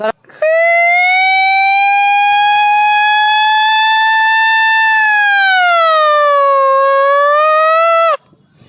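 A voice imitates an ambulance siren, one long sustained wailing tone that holds steady, then dips and rises before cutting off, loud and close.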